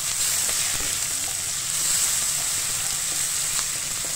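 Tomatoes frying in a pan over a medium flame for poha give a steady, loud, close sizzle that holds unbroken throughout, with no talking.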